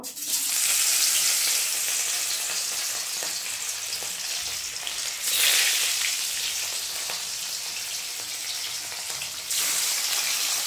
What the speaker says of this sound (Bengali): তাই জন্য আমি মাছ ভাজার জন্য কড়াইতে তেল দিয়ে দিয়েছি।